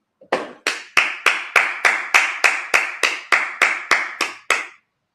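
A congregation at a Sabbath service claps in unison, about fourteen sharp, evenly spaced claps in a steady rhythm, loud and close, then stops.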